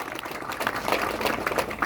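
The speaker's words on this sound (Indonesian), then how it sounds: "Tepuk tangan untuk para banser." An audience applauds the Banser at an Islamic religious gathering, a dense, continuous wash of many hands clapping at steady, moderate volume for a short stretch.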